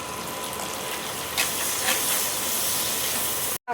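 Water poured onto turmeric and coriander powder in a hot pan sets off a loud, continuous steaming hiss that stays close and steady for several seconds.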